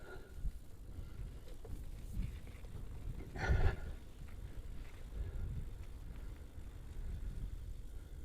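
Cold wind buffets a cyclist riding Cycle Route 18, a steady low roar that runs the whole way through, with a brief louder gust or breathy gasp midway.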